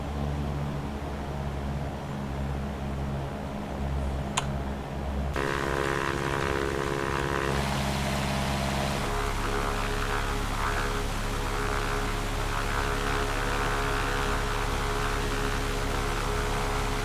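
A simulated airliner rolls down the runway and lifts off in a flight simulator, a steady engine drone that shifts tone and builds into a louder, fuller roar partway through, with one sharp click early on.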